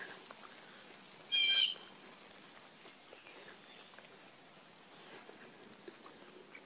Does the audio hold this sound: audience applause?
no